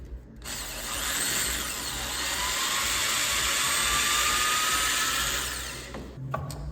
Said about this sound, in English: I got a 90-degree drill. I'm gonna hopefully be able to drill the mount